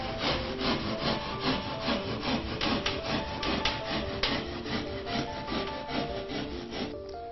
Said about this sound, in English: I use a Stanley Sureform tool